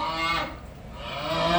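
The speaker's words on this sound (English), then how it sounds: "let's see if Old MacDonald has a cow" A cow sound effect plays a long, loud, low moo that swells and dips as it goes on, heard alone with no voices.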